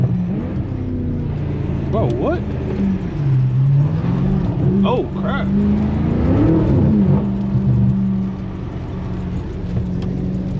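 Steady engine drone and tire hiss from inside a BMW F90 M5 on a rain-wet road, with the engine pitch rising and falling through a couple of revs while occupants talk over it.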